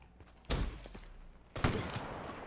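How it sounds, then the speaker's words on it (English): Two heavy shotgun blasts roughly a second apart in Black Ops 3, each a loud broadband boom trailing off into a rumbling tail over low game ambience. "Did you guys hear the shotgun?"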